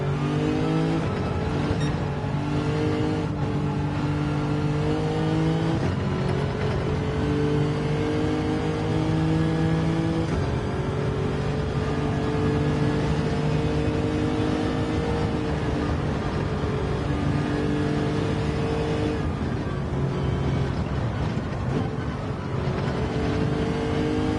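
A race car in Gran Turismo 7 drones steadily and loudly throughout, its engine pitch rising and falling as it accelerates and shifts, with no talking over it.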